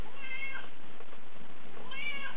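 Cat meowing twice up close, two drawn-out, wavering meows separated by a short quiet gap, with no voices over them.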